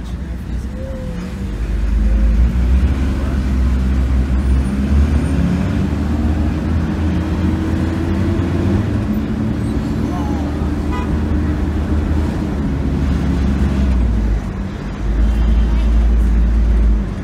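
Heavy road traffic on Mountain View Avenue in Jamaica rolls by as a continuous low engine rumble with occasional short horn toots, loud and close, staying dense from start to finish.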